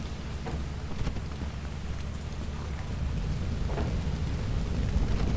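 Rain falling in a steady wash with low thunder rumbling underneath, continuous and fairly loud, with no talk.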